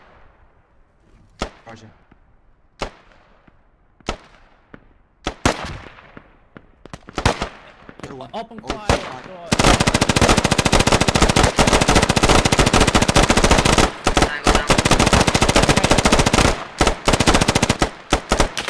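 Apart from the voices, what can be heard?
gunfire in a squad video game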